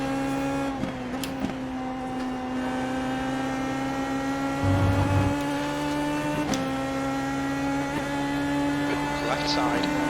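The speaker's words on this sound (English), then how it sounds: "Sound of the car, the engine's a little bit more high pitched than the USF." iRacing Indy Pro 2000 open-wheel race car engine, a steady high-pitched drone with strong harmonic tones running throughout, briefly dipping and shifting pitch at a couple of gear or throttle changes.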